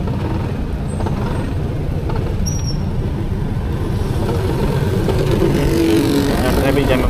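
Rush-hour traffic crawls along a Malaysian road, with steady engine rumble from cars, trucks and motorcycles, a brief high air-brake hiss, and someone talking over the noise throughout.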